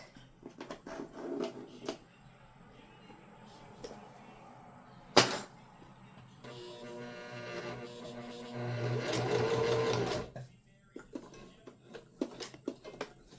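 A sewing machine stitches a decorative line on a bag pocket, with a few seconds of steady motor whirring among scattered clicks, a loud knock and handling noises from the fabric and work surface.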